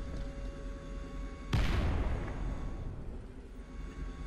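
A single heavy blast or cannon shot in War Thunder, an armored tank battle over a capture point with anti-aircraft fire nearby, bursts out loud and broad over a steady engine rumble, then trails off into a long rolling decay.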